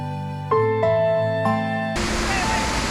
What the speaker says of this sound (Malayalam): ഈ വെള്ളച്ചാട്ടം മൺസൂണിൽ മാത്രമേ നമുക്ക് കാണാൻ കഴിയുകയുള്ളൂ